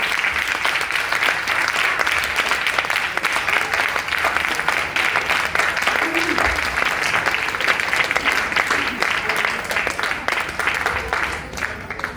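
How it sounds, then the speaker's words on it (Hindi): An audience at a women's day empowerment programme gives a loud, sustained round of applause for women, thick continuous clapping lasting around twelve seconds before easing off. "एक बार महिलाओं के लिए जोरदार ताली बजाएं।"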